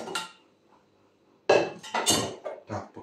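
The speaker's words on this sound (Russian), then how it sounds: "Положить в кастрюльку." Cauliflower florets dropped into a saucepan in a home kitchen: a sharp clatter, a quiet gap, then a cluster of knocking, rattling hits against the pot, close and fairly loud.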